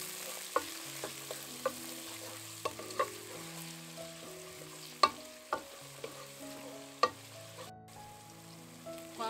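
Carrots, onion, garlic and peppers sizzle in a pan with a soft steady fry, while a spoon stirs and taps against the metal in scattered clicks, fairly quiet and with no voices.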